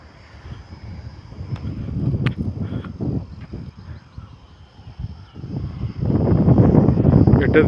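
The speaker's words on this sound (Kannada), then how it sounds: "ಬೆಟ್ಟದ ಮೇಲೆ ಗಾಳಿ ಜೋರಾಗಿ ಬೀಸ್ತಾ ಇದೆ." Strong wind blows on a hilltop, buffeting the microphone in rough gusts that swell and ease, growing loudest near the end.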